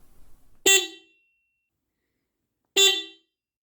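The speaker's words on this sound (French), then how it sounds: "J'ai acheté un klaxon rechargeable qui donne exactement le même son que le klaxon de la Thunder 2." Rechargeable add-on horn fitted to an electric scooter, tuned to sound like a car horn, giving two short loud honks about two seconds apart with silence between.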